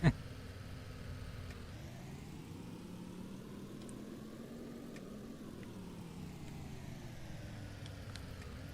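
A car engine in the Roblox game A Dusty Trip: a steady mid-pitched motor drone that rises and falls smoothly as the vehicle drives past, continuous and moderately faint, with no talk.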